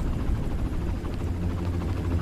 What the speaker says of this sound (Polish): czy będzie mnie gonić ten helikopter?